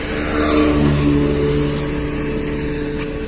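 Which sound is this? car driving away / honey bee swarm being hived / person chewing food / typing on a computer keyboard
car driving away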